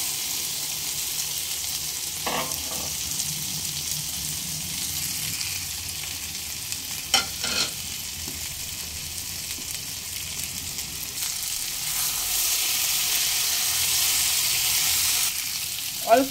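Pre-fried taro (mankochu) pieces frying in a pan for a vegetarian dish with coconut paste, a steady near sizzle with a few scattered stirring clinks and scrapes, swelling louder toward the end, no talking.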